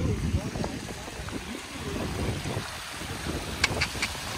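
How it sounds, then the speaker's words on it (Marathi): Gusty monsoon wind roars and buffets the microphone on a misty trek to Lohagad Fort, with rushing water and faint voices underneath. "वारा कसला फोर्स आहे हे बघ"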